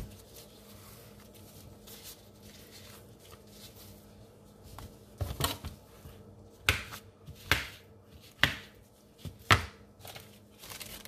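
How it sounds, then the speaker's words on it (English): A knife chopping ripe bananas on a board, first a few quiet taps, then a run of sharp, separate cuts roughly once per second, close and clear. "chop them up"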